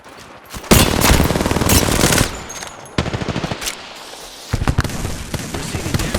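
Automatic weapons fire in the video game Apex Legends, loud rapid bursts of gunfire in several long volleys with short pauses between them.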